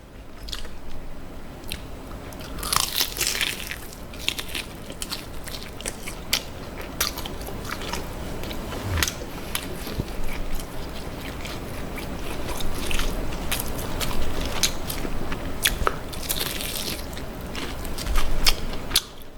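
Close, steady biting and chewing of spicy seasoned fried chicken with a sauced, less-crisp coating, producing wet crunches and squishy mastication sounds throughout, with no talking.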